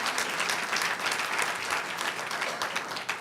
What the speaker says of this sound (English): please join me in giving our chief of police a round of applause